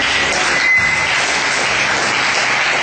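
A church congregation applauds loudly and steadily, a dense wash of clapping that fills the whole stretch without a break.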